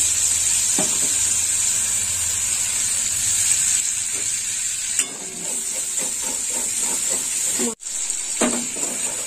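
Spice paste with a splash of water frying in a pan for a mustard pointed gourd curry, a steady close sizzle and hiss with intermittent stirring scrapes and a brief pause near the end.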